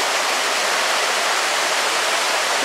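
Steady, loud rush of a forest stream flowing while bushcraft campers bivouac beside it, a continuous broadband water noise filling the whole clip with no voices.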